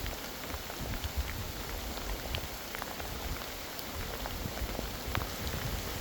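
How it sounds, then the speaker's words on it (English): Heavy rain pours down steadily outdoors, a dense constant hiss of drops striking surfaces with scattered individual splatters, loud and unbroken for the whole stretch with no voices. "It's raining very, very hard"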